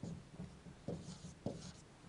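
Marker or chalk writing on a board in a classroom lesson, several short scratchy strokes in quick bursts, faint and close.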